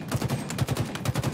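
Rapid automatic gunfire in the video game Halo Infinite, three quick bursts of punchy shots in a steady rhythm, loud and close, with no talking.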